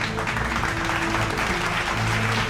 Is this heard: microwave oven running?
no